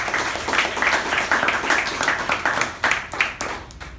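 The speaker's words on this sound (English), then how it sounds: "let us give the speaker and the evaluator a round of applause" Applause at a Toastmasters meeting for a speaker and evaluator, a lively round of close hand claps with a pulsing rhythm that thins toward a few scattered claps at the end.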